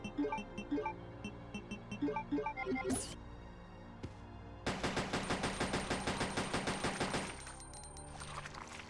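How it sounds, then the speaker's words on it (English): Handgun shots fired at a plant creature in Resident Evil Code Veronica, a run of sharp single reports at first, then a dense burst of rapid gunfire, loud and close, with no talk. "I'm just gonna shoot it. With the handgun, so I can keep the AK-47 bullets."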